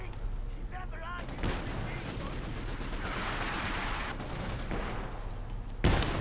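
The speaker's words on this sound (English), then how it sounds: "Looks like Shadowada didn't want to risk trying to pick it up under AEC fire." Rapid gunfire and explosions from an AEC armored car in a World War II real-time strategy game, steady rattling bursts and booms, with a sharp blast near the end.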